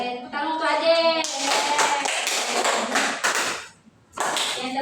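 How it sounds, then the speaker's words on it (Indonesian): A fifth-grade classroom claps for a pupil, a burst of quick hand claps from several children mixed with young voices, then a short pause before more clapping resumes. "Ya, bisa tepuk tangan untuk Ade"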